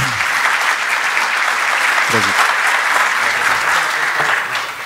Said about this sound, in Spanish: Recibimos al señor Juan José Reyes Escogido con un fuerte aplauso, por favor.